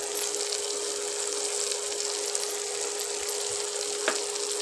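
Poppy seeds are added to onions browned in oil, producing an even, continuous sizzle with a faint steady hum underneath and a single small click near the end, no one talking.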